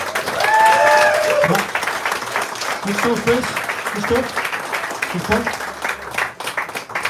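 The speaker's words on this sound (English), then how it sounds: "Big round of applause for Chris." Audience applause for Chris Gavigan as he comes onto the stage at a stout launch event, a dense, steady wash of clapping from a crowd that fades slightly, with someone speaking briefly over it.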